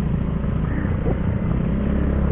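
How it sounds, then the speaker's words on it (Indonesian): A motorcycle ridden trail-style on a limestone hill keeps up a continuous low engine drone with a steady throb, sounding fairly close and loud throughout. "Ini mah bawa motornya gaya-gaya motor trail."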